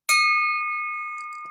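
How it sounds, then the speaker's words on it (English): A bell struck once at a Rotary club meeting rings out loud and close, its bright tone sustaining and slowly fading, with a faint stray sound near the end. "David Douglas rings the bell for his favorite framer."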